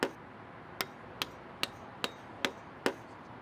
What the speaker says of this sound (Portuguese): Pregue o casco na treliça.